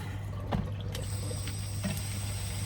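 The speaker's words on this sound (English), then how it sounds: "We're now going to fill this water bottle up" Hot water runs from a tap into a water bottle packed with ice, a soft steady stream with a few faint clinks, fairly quiet and with no talking.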